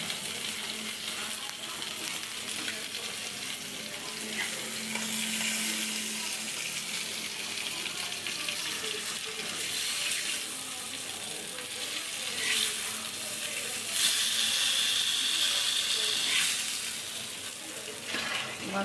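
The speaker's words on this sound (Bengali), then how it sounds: "ভাজা হয়ে গেছে, এখন মাছগুলো দিয়ে দিব" Fish frying in a pan with oil, a steady broadband sizzle that runs the whole time at close range with occasional stirring noises and no talk.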